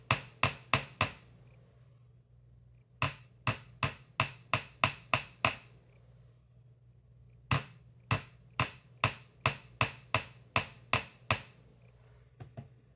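Hammer taps lightly on a small wire hoop, loud and close, in quick runs of four, then eight, then ten sharp metallic strikes with short pauses between runs. A faint steady hum sits underneath and no one speaks.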